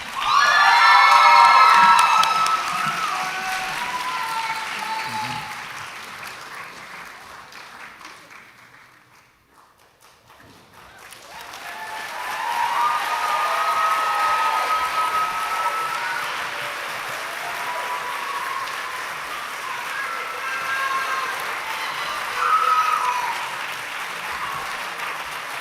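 A high school graduation crowd at Perpich Arts High School applauds and cheers the class of 2024 with loud clapping and shouts. The applause fades to a near-silent lull, then swells again into sustained clapping and whoops.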